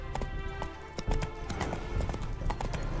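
Hooves of Roach, a horse in a video game, clip-clop in a steady quick rhythm under a busy musical and ambient game soundtrack, close and continuous.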